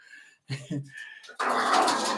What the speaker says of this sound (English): Steph, will you come get the dogs?